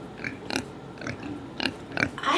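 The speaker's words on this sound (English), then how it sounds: "I hear a sound of a pig. Oink, oink, oink, oink." A pig grunts and oinks in several short, nasal bursts spaced at an uneven rhythm, fairly close and clear, with little else around it.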